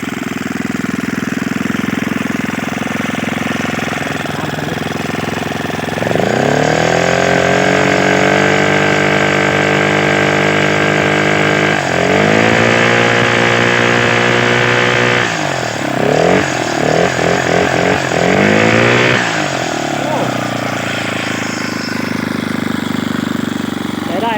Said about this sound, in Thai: เดี๋ยวผมจะลองเร่งเครื่องให้ดูนะครับ